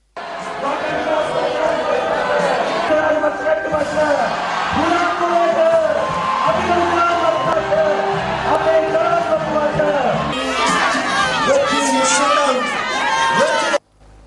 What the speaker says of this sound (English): The president received a raucous welcome from the crowd when he arrived at the rally.